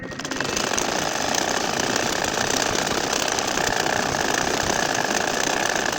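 An ordinary sewing machine stitching a nakshi kantha quilt: a continuous fast mechanical rattle, loud and close, running steadily for several seconds without pause.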